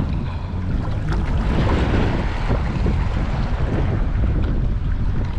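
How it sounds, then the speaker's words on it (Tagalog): Sea waves building in strength off the coast at Calayo, Nasugbu, Batangas, a steady broadband wash of surf and wind noise that stays loud and continuous throughout, with no talking. "Lumalakas na yung alon."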